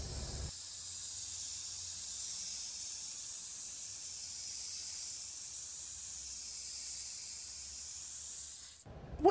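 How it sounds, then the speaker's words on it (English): A steady, even hiss from a spray paint can runs continuously for several seconds at close range, quiet and unbroken, ending with a brief clatter. "And then we're gonna spray paint."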